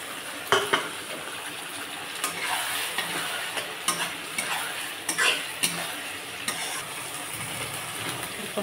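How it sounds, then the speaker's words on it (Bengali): Onions frying in a pan as spices are tipped in, making a steady close sizzle with occasional scraping stirs and small utensil knocks against the pan, without any talk. "পেঁয়াজটা প্রায় হয়ে গেছে, এখন আমি মশলাটা ঢেলে দেবো"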